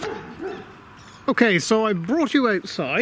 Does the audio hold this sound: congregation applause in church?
no